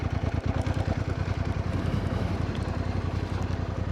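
A 2025 Africa Twin Adventure Sport motorcycle rides off-road on back roads in off-road mode, its engine giving a loud, steady, close-up throbbing drone with a rapid pulsing beat throughout.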